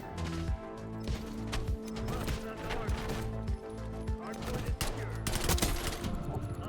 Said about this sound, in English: I'm just getting shot through the wall.